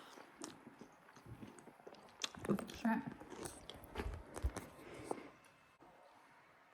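Crunchy chewing of garlic pretzel bread by a cook at a wood-burning stove, with bites and crunches coming in bursts close to the mic and mixed with muffled mumbling and brief talk.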